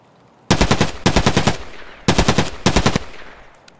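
Loud automatic gunfire in the shooter game Escape from Tarkov, four rapid bursts of close, sharp shots separated by short pauses.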